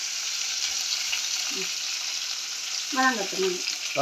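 Onions fry in a pan for a fish curry with a dense, constant sizzle, while a voice speaks briefly over the frying toward the end.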